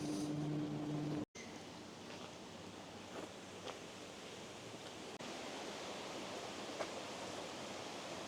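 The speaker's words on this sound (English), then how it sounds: "The sound of water echoes up through the narrow streets" Sea surf washing against the shore of a Yorkshire coastal village at night, heard as a steady, broad, rushing wash that echoes up through narrow streets, continuous and moderately distant with no voices.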